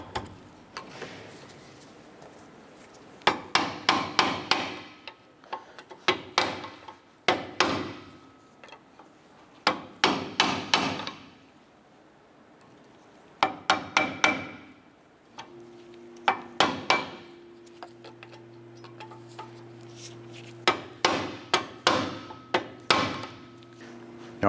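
Steel pry bar tapping a seized brake pad backing plate in the caliper bracket of a 2008-2012 Honda Accord, sharp metallic knocks in quick bursts of several taps separated by pauses, close and loud, with a faint hum partway through.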